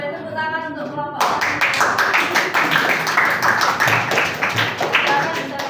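Students clapping in a classroom for a group, a short voice first and then a sudden burst of many hands clapping together, steady and fairly loud until the end.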